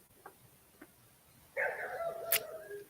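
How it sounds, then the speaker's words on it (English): Neighbor's dogs outdoors give a couple of faint, distant yelps, then a longer, louder whining bark-like call over quiet background noise. "Oh, so now my dog's got to see them and start barking."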